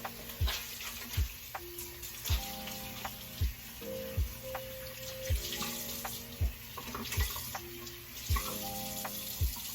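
Tap water runs steadily into a sink while a face mask is rinsed off, with soft splashing and a few brief clinks and knocks recurring through the stream.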